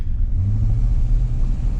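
A Buick Electra's engine accelerates while driving, producing a loud, close, deep rumble that holds steady throughout the short stretch with no voices.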